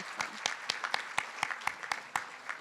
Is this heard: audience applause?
yes